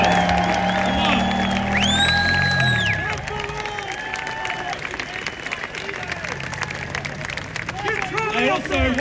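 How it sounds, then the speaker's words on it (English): Crowd outside New South Wales State Parliament at a rally against an abortion bill, cheering and clapping loudly at first, then settling into a continuous murmur with scattered shouts and whistles throughout. "Can I get a big cheer for those members?"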